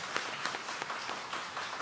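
A church congregation at a Sunday Taiwanese-language worship service claps together in a dense, steady round of applause that fills the room for a couple of seconds.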